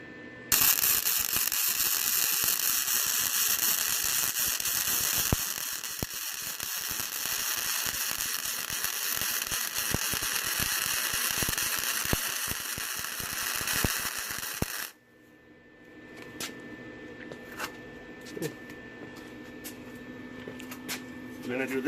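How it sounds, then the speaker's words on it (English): An arc welder crackles and sizzles loudly and continuously for about fifteen seconds while a tire carrier is welded onto a Toyota Hilux rock bumper, then stops, leaving quieter shop sounds and faint clicks. "we are welding on the tire carrier"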